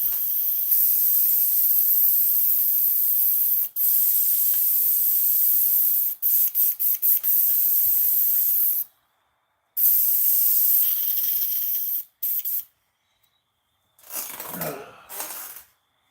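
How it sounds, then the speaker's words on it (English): An airbrush is cleaned out while it sprays, giving a loud, close, hissing air blast. The hiss runs in long bursts broken by short stops and quick stutters, then falls silent before a final softer burst. "So it's time to clean this off. Clean the airbrush."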